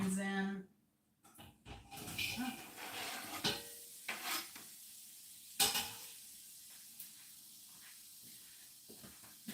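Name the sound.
onions sizzling in olive oil in a pan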